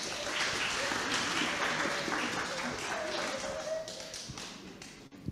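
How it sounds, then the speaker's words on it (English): A church congregation claps and applauds in a dense, steady patter with some voices mixed in, the clapping thinning out and fading toward the end. "Give him a clap"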